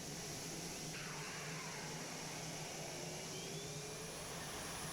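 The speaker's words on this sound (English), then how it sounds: "Some really nice sampled exterior noises, which I believe are from the real F-22." F-22 jet engines start up in a flight simulator, spooling with a rising whine over a loud, steady roar of rushing air, continuous and close.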